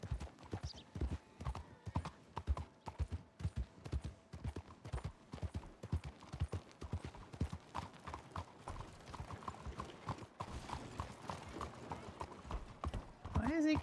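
Horse hooves cantering in a roleplay video game, a fast, steady rhythmic clip-clop running without pause, close and clear, with talk heard over it.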